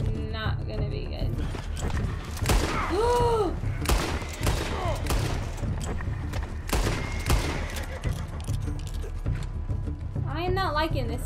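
Bursts of gunfire in Red Dead Redemption 2, several sharp shots scattered through a busy game scene with mechanical clicks and a talking voice over it.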